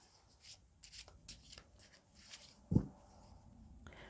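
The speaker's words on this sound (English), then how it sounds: "I'm shuffling the cards now for you." Tarot cards being shuffled by hand, soft rubbing and riffling bursts close by with a brief louder knock partway through, faint and unhurried.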